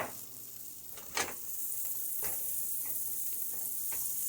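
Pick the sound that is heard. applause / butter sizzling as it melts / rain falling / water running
butter sizzling as it melts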